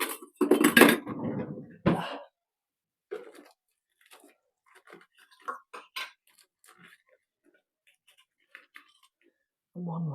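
Metal canning rings and lids clink and tap lightly against each other and a surface in a home kitchen, scattered small clicks after a few words of speech at the start, with another voice beginning at the end.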